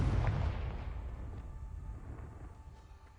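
A Confringo fire spell detonates in Hogwarts Legacy, a heavy booming blast that rolls out and slowly fades into a low rumble, with no voices.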